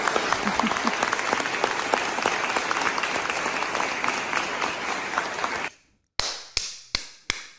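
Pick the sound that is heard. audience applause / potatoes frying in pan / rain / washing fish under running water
audience applause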